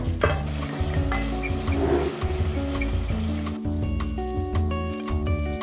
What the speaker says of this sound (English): Okay, then we add our ground pork. And then we're going to saute this for 1 minute.